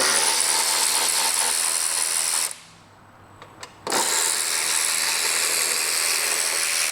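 A ratchet with a 5 mm Allen bit removes the grab handle screws on a Vespa GT200, making a loud, continuous close ratcheting noise that stops briefly for about a second and then resumes.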